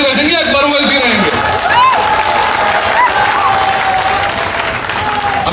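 A crowd at a 2024 Maharashtra election public meeting held by AIMIM applauds loudly and continuously, while voices call out and a speaker's raised voice cuts through the sustained clapping.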